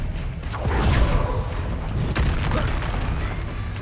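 A Confringo blast spell in Hogwarts Legacy erupts as a loud, rumbling boom with a crackling burst, followed by a sustained roar and a second sharp impact partway through.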